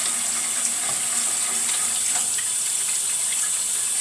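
Tap water runs steadily into a sink for hand washing, a continuous bright hiss and splash that stays even and close throughout with no other sounds.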